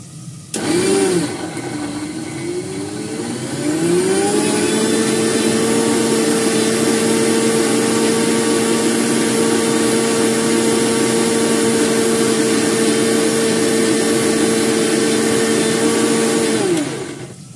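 A mixer grinder whirs loud and close as it grinds coriander leaves with green chilli and garlic, spinning up in pitch after a brief start and then holding a steady high whine before cutting off.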